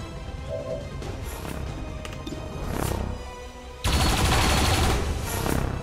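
Gunfire aimed at a turret in the video game XCOM 2: War of the Chosen. A burst of shots rises loud and dense toward the end over a busy game soundscape, with no one speaking.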